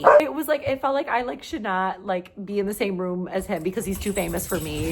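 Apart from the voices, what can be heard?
dogs barking excitedly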